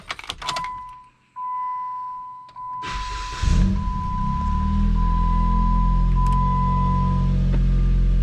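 A Jeep Patriot with a CVT is switched on: keys jingle and a steady electronic chime tone sounds, then the engine cranks and settles into a continuous low idle rumble close by.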